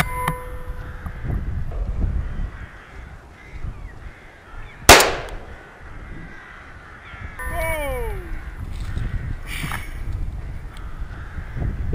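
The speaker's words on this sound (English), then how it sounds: "A rook taking to the wing overhead sees David's semi-auto put to good use" Rooks caw overhead in the open countryside during a shoot, harsh calls rising and falling over wind, with one sharp shotgun blast cracking out midway.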